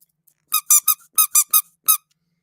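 A rubber duck toy squeezed repeatedly gives seven loud, bright squeaks in quick bursts, some doubled, close up with silence between them.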